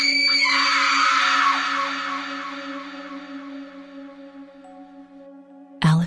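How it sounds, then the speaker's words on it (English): A drawn-out, blood-curdling scream from a shadowy specter in a haunted forest rings loud and shrill, slowly fading over several seconds before a sudden sharp burst at the end. "With a blood-curdling scream,"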